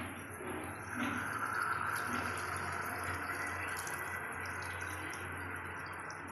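Tamarind juice poured into an Andhra-style fish curry simmering in a pot, a steady liquid splash and trickle that runs close and even for several seconds.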